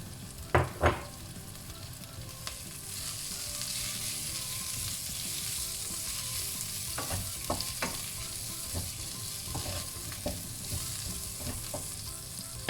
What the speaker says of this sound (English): just stir fry my cabbage